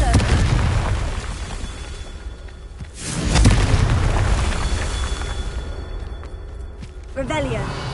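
Fire spell Confringo exploding in the video game Hogwarts Legacy, a loud booming burst rising midway over dense, continuous game noise, with a voice speaking.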